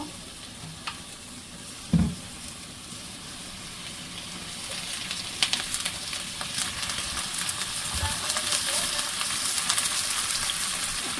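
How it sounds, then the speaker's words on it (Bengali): Chopped onions sizzle steadily in hot oil in a pan as the base for a gourd tempering, with a few stirring knocks and a bright hiss that grows a little louder over time. "এখন লাউ বাগার দিব, এই জন্য প্রথমে পেঁয়াজ দিয়ে দিলাম। তেল দিব"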